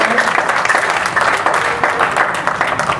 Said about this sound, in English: Shall we give God a clap of praise tonight?